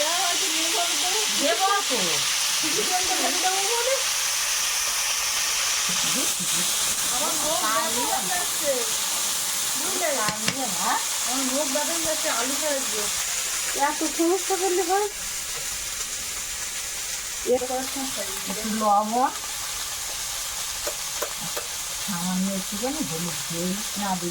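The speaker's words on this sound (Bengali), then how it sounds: "এই দানাটা ভাজবো তাই কড়াই আর একটু তেল দেবো" Sugar grains frying in a little oil in a wok, a steady hiss running under intermittent talking that comes and goes throughout.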